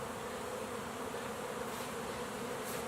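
Russian honey bees buzz around a backyard hive in a dense, continuous drone that holds an even level throughout, close and unbroken, with no voices.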